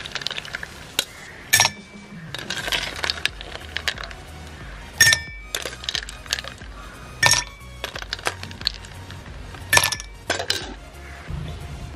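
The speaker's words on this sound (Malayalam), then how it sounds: "ഇനി നമുക്ക് ഐസ് ക്യൂബ് കൊടുക്കാം." Ice cubes drop into a glass for watermelon juice, making a close series of sharp, irregular clinks and rattles over about twelve seconds, with no talking.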